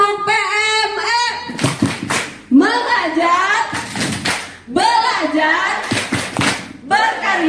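A group claps in short rhythmic bursts for a classroom-style clapping chant, the sharp claps falling between phrases chanted aloud by voices.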